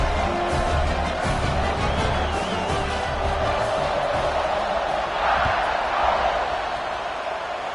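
A stadium crowd in a college football video game roars in a steady, loud, dense wash of cheering before a kickoff, with no clear individual voices standing out.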